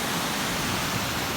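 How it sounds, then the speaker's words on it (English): Floodwater from a swollen county creek rushes past in a steady, broadband roar, close and continuous with no breaks for the whole short stretch. "this is the water line here, and this is the county creek"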